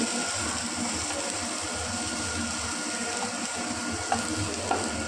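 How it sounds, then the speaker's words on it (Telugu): Food sizzles steadily in a hot pan, a constant crackling hiss with a couple of faint clinks of stirring. "ఒక 1 minute ఫ్రై చేసేస్తే ఇదంతా మెత్తగా ఉడికిపోతుంది"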